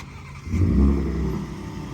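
A 2021 Ford Raptor pickup truck starting remotely with a new, louder exhaust: the engine fires up with a low rumbling swell that peaks briefly and settles into a steady idle.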